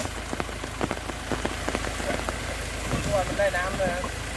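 Steady rain patters on a surface with scattered drop taps on an oil palm farm in Thailand, and faint talk murmurs underneath now and then.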